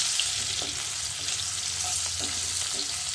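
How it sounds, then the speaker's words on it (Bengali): Potatoes frying in a pan of oil for a Bengali flat-bean mustard-paste dish, a steady close sizzle with a few soft stirring scrapes, no talking. "আলুটা একটু লাল লাল করে ভাজা হবে"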